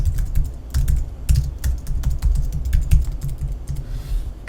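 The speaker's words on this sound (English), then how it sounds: "So I will type those here." Brisk typing on a computer keyboard, close and fairly loud, with fast irregular key clicks and thumps running almost continuously before a short pause near the end.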